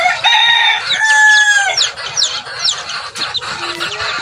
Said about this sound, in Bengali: এখানে হচ্ছে মুরগির বাচ্চাগুলো আছে